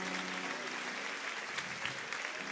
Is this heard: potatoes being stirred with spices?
no